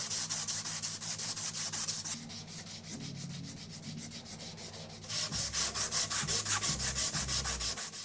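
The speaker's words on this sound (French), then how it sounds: "maintenant, on va passer au ponçage à la main" Hand sanding on a knife handle made of pear and padauk wood, with steady rhythmic rubbing strokes up close that get louder and quicker in the second half.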